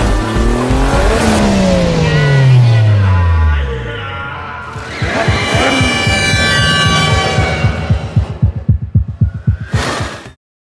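A car engine roars and revs hard during a chase in the film Special Delivery, with rising and falling pitch sweeps, tire squeal, and a rapid pulsing rattle near the end, loud and close.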